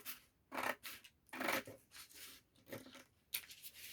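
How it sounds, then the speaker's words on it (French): Scissors snip through paper along drawn lines in several distinct bursts, close and crisp, with brief quiet gaps between cuts. "On coupe sur les lignes tracées."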